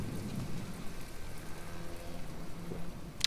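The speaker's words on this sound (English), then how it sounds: "Come on, rain, go away." Rain falls in the naval video game From The Depths, a steady, soft hiss of downpour with low rumbling underneath, moderately quiet and continuous, ending with a brief sharp click.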